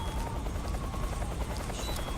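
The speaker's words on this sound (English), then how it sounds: "if you destroy the Hind helicopter back at their base before entering the Ocelot and the Pain boss fight" A Hind helicopter in the video game Metal Gear Solid 3: Snake Eater gives a loud, continuous rotor chop and engine roar that fills the whole moment, dense and close with no pauses.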